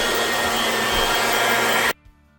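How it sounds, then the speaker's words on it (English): A meat grinder hums steadily at close range as it works beef chuck into burger, a loud continuous whir that cuts off abruptly near the end, leaving quiet room tone. "when you're grinding this burger"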